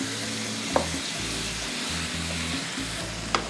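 Ground meat for Bolognese fries on high heat, a loud continuous sizzle close by with a few sharp scrapes or clinks of stirring cutting through.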